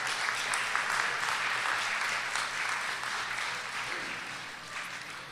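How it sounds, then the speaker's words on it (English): A workshop audience claps for the speakers, a steady wash of many hands applauding in a hall that holds at an even level throughout and tapers slightly toward the end. "what about a round of applause for all the speakers today?"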